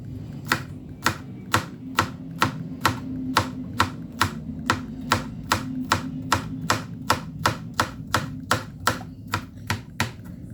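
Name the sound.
knife cutting okra into rounds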